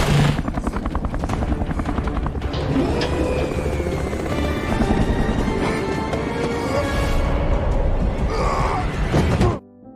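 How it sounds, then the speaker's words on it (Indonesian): A helicopter's rotor chops rapidly and loudly throughout, mixed with dramatic music and action noise, cutting off sharply near the end. "berhasil mencuri helikopter milik mereka"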